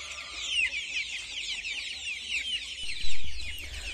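KUB chickens cluck and chirp in a steady chorus, with a few close, sharper calls over constant low rumble.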